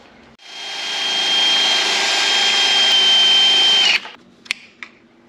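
Power drill boring through a worn gear stick housing pin on a Toyota Land Cruiser, a loud steady high-pitched whine lasting about three and a half seconds, then cutting off, followed by a couple of sharp clicks, with no talking.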